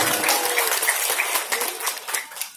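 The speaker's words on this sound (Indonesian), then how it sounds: "Tepuk tangan dong." Audience applause at a humorous Sundanese religious lecture, a dense wash of clapping that holds steady at a moderate level, then thins and tapers off toward the end.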